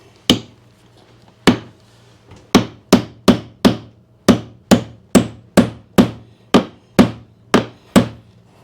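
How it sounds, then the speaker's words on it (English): A nail is hammered into laminate flooring during a floor installation: about fifteen sharp, close wooden knocks, spaced unevenly at first and then in a fairly steady rhythm, with no talking. "Just get a nail started here"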